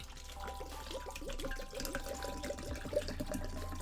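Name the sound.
pouring water into a cup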